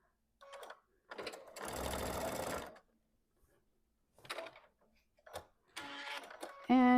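A sewing machine running a regular straight stitch on fabric strips for twine chatters in several short bursts and one longer steady run, separated by quiet pauses, close and fairly soft.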